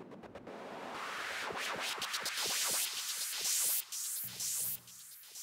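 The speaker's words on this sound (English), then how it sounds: "It's kind of a white noise ramp up there" A rising white-noise sweep builds steadily, broken by rhythmic glitchy stutters and echoing repeats that climb toward a bright hiss before short choppy bursts at the end.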